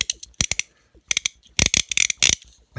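Toy Porsche Growler car's growl mechanism, a loud close ratcheting rattle in several quick bursts separated by short pauses, no talk.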